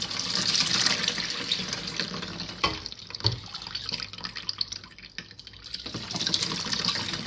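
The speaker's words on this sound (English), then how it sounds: "I'm going to sieve my Zobo now into a clean bowl" Zobo (sorrel) drink is poured through a sieve into a clean bowl, a close, quiet trickling stream of liquid with a few brief clinks and pauses before the pour resumes.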